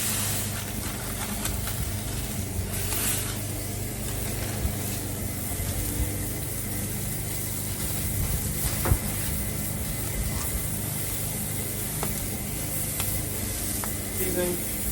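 Burger patty smashed onto a hot Blackstone griddle, sizzling in a continuous loud fry with crackling spatter, occasional scrapes and taps standing out from the steady hiss.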